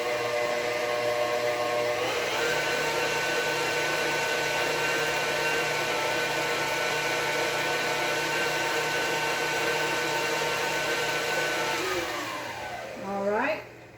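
An electric mixer beats pumpkin bar batter in a steady, loud, continuous whir that shifts pitch partway through and winds down near the end with a brief clatter as it stops.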